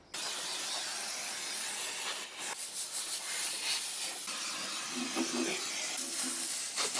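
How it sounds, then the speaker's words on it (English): Aerosol brake cleaner sprayed into the inner wheel arch of a fire-damaged BMW 335i under restoration, a close, continuous airy hiss with short pauses and bursts and no talk. "now I will use some brake cleaner and clean out the inner wheel arch"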